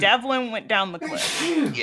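One sharp, close sneeze bursts out right after a man's speech during a tabletop role-playing game session, a single loud breathy blast with voices talking around it.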